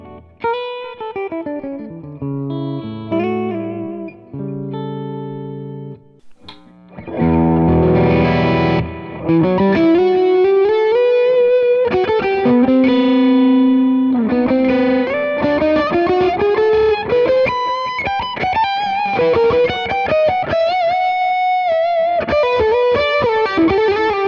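Electric guitar through a Kingsley ToneBaron amp on its clean channel with reverb and delay, playing sustained chords and melodic lines; repeats and a wash of reverb trail each note, loud and alone with no voices.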